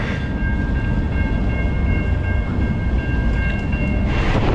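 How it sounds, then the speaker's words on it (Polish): A train made up only of locomotives rolls past nearby with a heavy, continuous rumble and a steady droning engine tone, with no pauses. "Ja myślałem, że będzie długi pociąg, a to same lokomotywy"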